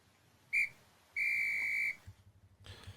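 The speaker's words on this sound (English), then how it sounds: "The ref's blown his whistle, and Lucas gets us underway." A football referee blows a whistle at kickoff: one short shrill blast, then a longer sustained blast, with faint crowd or commentary noise trailing after.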